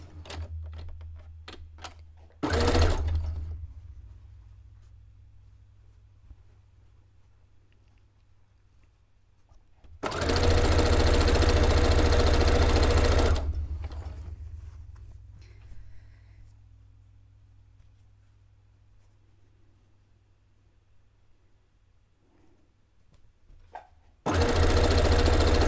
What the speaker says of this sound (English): Before I fully sew it on, I want to double check that I don't want a center dividing line.